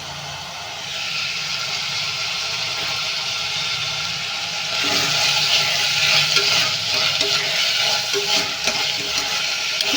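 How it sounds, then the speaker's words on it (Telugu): Steady frying sizzle of onions with turmeric in a pan, a broad hiss that grows louder midway, with occasional stirring scrapes and no talking. "ఉల్లిపాయలు అయితే కొంచెం పసుపు అయితే వేసానండి పసుపు వేసి అయితే ఫ్రై చేస్తున్నాం"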